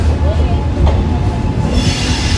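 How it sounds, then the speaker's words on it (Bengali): The 13187 Maa Tara Express pulls out of Bolpur station with a loud, steady rolling rumble and a thin metallic wheel squeal running throughout, close by and uninterrupted. "2 মিনিটের হল্ট দিয়ে আমাদের ট্রেন আবার ছেড়ে দিল বোলপুর স্টেশন থেকে।"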